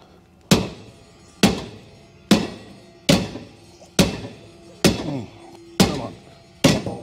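A big hammer pounds the passenger side of a 1973 Mustang Mach 1, eight loud, heavy metallic blows spaced roughly evenly, each ringing briefly before the next.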